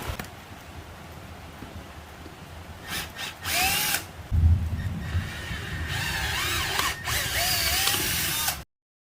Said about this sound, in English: I'm gonna get the rest of them out, and we'll drill them out